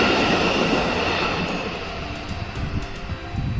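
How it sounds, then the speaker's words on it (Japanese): A Japanese Special Rapid Service train rushing past a level crossing with a loud sustained roar and rattling, the rumble easing slightly as it goes by. "かなり遅れて通過している新快速電車です"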